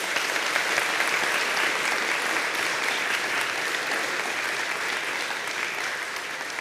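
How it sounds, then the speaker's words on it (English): A church congregation at its annual meeting gives a round of applause to award recipients, steady dense clapping from a large crowd filling the room at an even level throughout. "let's give them one more round of applause"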